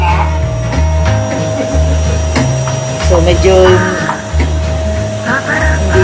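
A vacuum cleaner runs indoors during room cleaning, a steady close motor whine with shifting pitch as it moves, while people talk over it.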